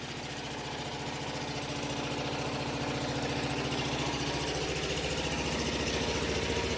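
An Onan RV generator runs continuously, a steady rhythmic engine chug with a dense mechanical hum, close and constant throughout with no talk.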